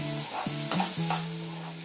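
Tomatoes cook in a hot pan while a spoon stirs them, a soft sizzle running underneath a few brief scraping knocks, close and fairly quiet.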